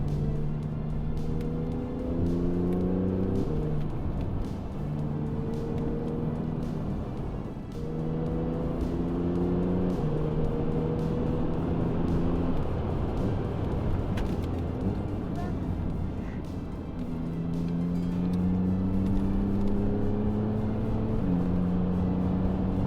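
A Porsche 991.1 Carrera S accelerates hard along twisting roads, its engine climbing through repeated rising pitches with brief dips between gear changes, loud and sustained from inside the car.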